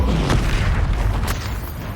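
Fire-spell explosion in the Hogwarts Legacy video game: a loud, close, deep rumbling boom that holds steady with a brief crackling burst, with no talk.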